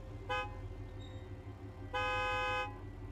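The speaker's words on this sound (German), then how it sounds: "Einmal kurz hupen, sagst du?" Car horn in the video game State of Decay 2, honking twice as two loud tonal blasts, a short one and then a longer one held for under a second, over a steady engine rumble.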